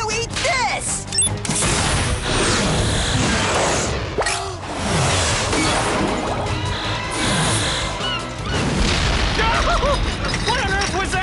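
Cartoon torpedoes blow up in a run of loud, booming explosions, one blast crowding in after another across the whole stretch, with voices shouting over the chaos.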